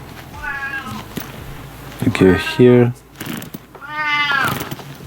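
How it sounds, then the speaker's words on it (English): A house cat meows three times in the background, each cry drawn out and fairly clear, while a person nearby talks through assembling a Mini 4WD FM-A chassis. "Might hear a cat in the background. It can be kind of noisy sometimes."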